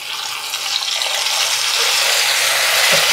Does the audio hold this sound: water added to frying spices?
yes